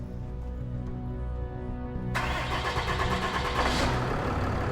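A repaired heavy tow truck engine cranks for about two seconds, then fires and catches into a loud, steady rumbling idle close by, with no talking.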